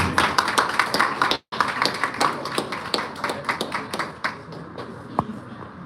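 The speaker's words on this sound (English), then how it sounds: "Can we have a round of applause for our guests?" Applause for guests at the inauguration of an incubation centre in Kolkata: a room of people clapping steadily with sharp individual claps standing out, briefly cut off partway, then continuing and thinning out toward the end.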